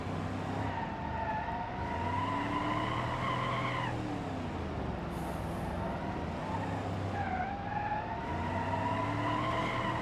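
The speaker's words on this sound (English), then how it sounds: "This is a highway patrol car." A highway patrol cop car in the BeamNG.drive game drives hard, its engine tone sweeping up and down through gear changes with repeated tire skids and squeals, loud and close, with no talking.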